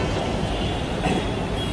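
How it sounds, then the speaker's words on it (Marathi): A metro train pulls out of a station platform, giving a steady, close rumble of wheels and carriages that holds level and unbroken throughout. "मेट्रोच्या स्टेशनवरती बसलोय कारण की ही गाडी जस्ट सुटली"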